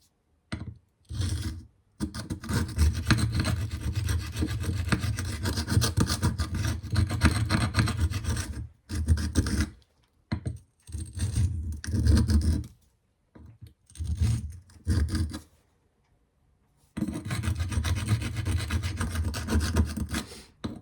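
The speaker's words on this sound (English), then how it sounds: "Completely crushing that apex on this very extra coarse 220 diamond stone" A K390 steel knife edge of about 64.5 HRC ground on an extra coarse 220 grit diamond stone, giving repeated rasping strokes in bursts separated by short pauses, close and fairly loud.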